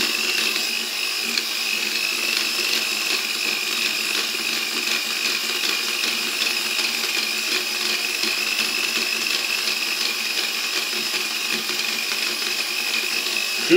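An electric mixer whirs steadily for the whole stretch, beating a pistachio filling for a galette des rois, a constant high motor drone with an even, unbroken level.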